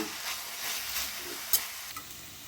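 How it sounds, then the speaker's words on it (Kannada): Ginger garlic paste sizzles and fries in a pan, a steady close hiss with faint stirring scrapes and a couple of sharp clicks, with no talking. "ಶುಂಠಿ ಬೆಳ್ಳುಳ್ಳಿ ಪೇಸ್ಟ್ 1 ಸ್ಪೂನ್ ಹಾಕ್ತಾ ಇದ್ದೀನಿ. ಹಸಿ ಸ್ಮೆಲ್ ಹೋಗೋವರೆಗೂ ಚೆನ್ನಾಗಿ ಫ್ರೈ ಮಾಡೋಣ"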